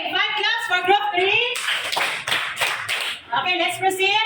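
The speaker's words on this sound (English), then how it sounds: "Okay, 5 claps for group 3." A classroom group claps a short burst of about five sharp claps, close and loud. Children's voices talk just before and after it.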